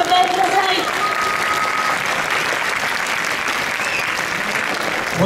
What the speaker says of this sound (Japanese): どうぞ盛大な拍手でお迎えください。